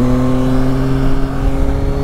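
A Yamaha Tracer 9 GT+ Travel Pro motorcycle engine drones steadily and loudly close up, a sustained harmonic tone holding under the rider's position with no speech.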